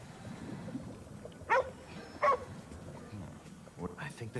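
A dog in the Ghostwire Tokyo video game gives two short, sharp barks close together over a low game ambience, followed by a fainter yip near the end, with someone talking around it.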